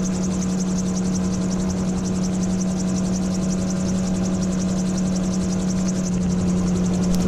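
Steady droning engine of a light aircraft in level flight over Welsh hills near Llyn Alwen, loud and unbroken with a constant low hum throughout.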